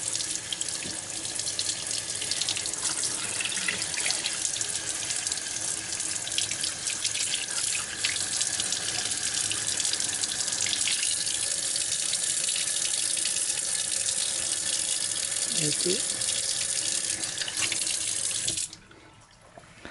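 Tap water pours steadily into a sink to rinse a clogged water filter, a continuous loud splashing stream lasting almost twenty seconds before abruptly cutting off as the faucet closes.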